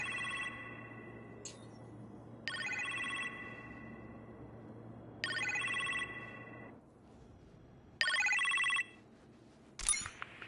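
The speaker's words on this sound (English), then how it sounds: "You appear to have a phone call in the kitchen, sir." A phone ringing in a PS4 video game: a series of short electronic telephone rings, roughly four bursts about every three seconds, clear against a quiet low hum, followed by a brief final chirp.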